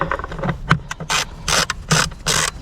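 Torx screws being loosened on the engine of a Renault Kangoo 1.9 D, heard as close ratcheting clicks and short scraping mechanical bursts in an irregular rhythm, with no talk.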